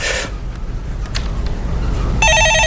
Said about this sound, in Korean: 전화 받아보겠습니다.